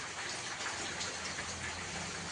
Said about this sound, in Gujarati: રાતની વરસાદ શરૂ છે એ પણ આવે છે.